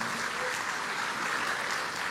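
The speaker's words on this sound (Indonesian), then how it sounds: "Beri tepuk tangan yang meriah buat Tuhan." Brief burst of congregation applause in an Indonesian church service, dense even clapping for about two seconds.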